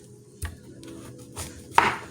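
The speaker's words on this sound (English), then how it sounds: "I prefer to just use a knife and just cut as close to the ends as I can" A knife chops through a large celery root on a cutting board, giving three distinct cuts spaced about a second apart, the last one the sharpest and loudest, close up over a quiet kitchen hum.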